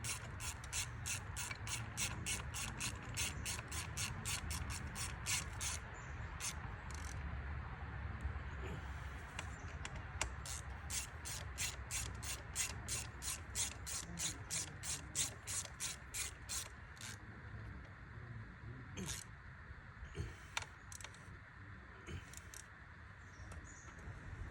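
Socket ratchet clicking in fast repeated bursts while bolts are tightened on a Harley Sportster 1200S, close and fairly loud over steady background noise, with short pauses between the rows of clicks.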